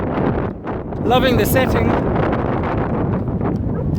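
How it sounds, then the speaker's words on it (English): Strong wind buffets the microphone in a constant low roar while riding an ElliptiGO 11R stand-up elliptical bike on an exposed route, with someone talking over it. "but it's seriously exposed to the wind."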